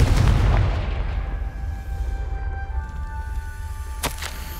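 A Confringo blasting spell in the Hogwarts Legacy video game bursts as a deep, booming explosion, then fades through a rumbling tail with a faint lingering tone and one sharp crack near the end.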